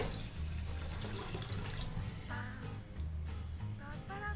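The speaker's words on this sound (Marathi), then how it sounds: "यामध्ये मी आता पाणी घालते" Water pours steadily into a vessel of washed ration rice, a continuous gushing splash with bubbling tones near the end.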